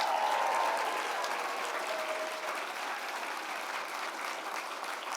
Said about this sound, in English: can we get another round of applause for Dr. Anthony Fauci?